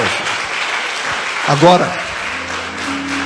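Church congregation applauding during a service: a sustained, dense wash of clapping throughout, with a brief spoken word and some tonal background sound partway through.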